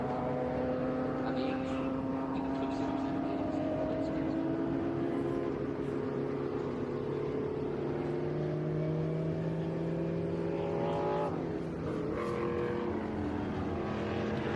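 At Sonoma Raceway during the Velocity Invitational vintage racing event, a GTO race car drives the track with a steady engine drone whose pitch slowly climbs and shifts, heard at a moderate distance.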